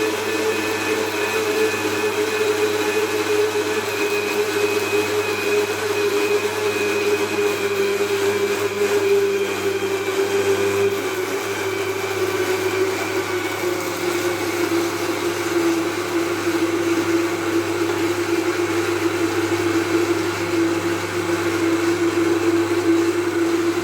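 A blender whirs steadily, grinding sugar for marble cake batter, a loud continuous motor drone with a constant pitch holding for the whole stretch, with no voices.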